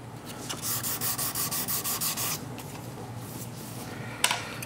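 Fine-grit sandpaper rubs along a guitar fingerboard in a quick, steady run of about ten close, even back-and-forth strokes. A quieter pause follows, ending in a single sharp knock.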